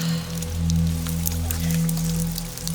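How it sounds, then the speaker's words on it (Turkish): Rain falls steadily outside, a continuous soft patter and hiss that holds even throughout, layered over a low sustained humming drone, with no voices. "Dışarıda yağmur yağar."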